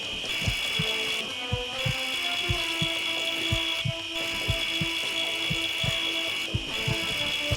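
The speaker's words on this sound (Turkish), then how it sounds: "Bu kemik testeresi değil mi?" Rhythmic back-and-forth bone saw strokes in Surgeon Simulator repeat steadily under a constant high mechanical tone, close and fairly loud, with no talking.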